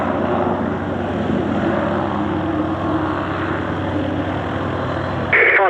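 Fairey Swordfish biplane at an airshow, its propeller engine droning steadily and loud throughout, with a brief sharper burst near the end.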